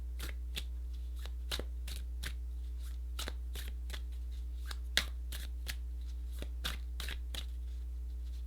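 Tarot cards shuffled by hand close up, a quiet series of crisp riffling slaps and snaps at an uneven rhythm over a steady low hum, with no talking.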